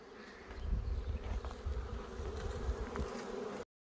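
Honey bees buzzing around open apiary hives during an inspection in Kazakhstan, a dense, steady, fairly close hum that carries on with no talk.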